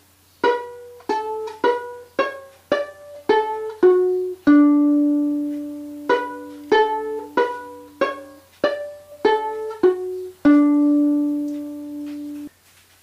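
Solo violin plays a phrase of the fiddle tune Drowsy Maggie, a quick run of separate bowed notes with two longer held tones, played close and alone with no talking.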